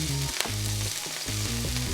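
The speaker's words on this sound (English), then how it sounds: "So I'm gonna add some vegan butter onto our pan" Vegan butter sizzling in a hot frying pan before pancake batter goes in: a loud, dense, continuous hiss with steady low tonal hum beneath it and a brief click near the start.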